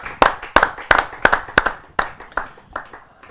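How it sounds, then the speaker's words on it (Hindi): Sharp, close handclaps at a Hindi poetry gathering as a poet is welcomed, about ten distinct loud claps in an uneven rhythm that thin out and fade toward the end. "आप सबकी जोरदार तालियों से।"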